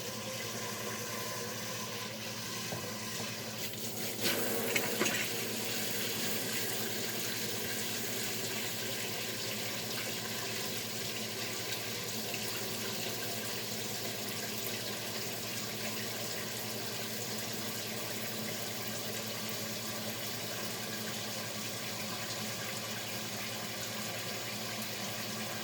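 Tap water runs steadily into a container of chicken brine with ice, a continuous close hiss and splash lasting throughout with no talking.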